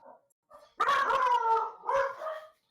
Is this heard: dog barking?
yes